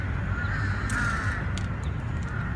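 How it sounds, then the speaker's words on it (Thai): A few harsh crow caws ring out over a steady background hum in Lumpini Park, Bangkok, moderately loud and slightly distant. "ช่วงนี้ก็จะมีเสียงอีกานะคะ"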